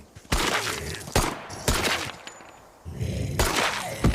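Four pistol shots ring out in a horror village zombie video game, each a sharp loud crack followed by a short ringing tail, spaced unevenly apart with no talk over them.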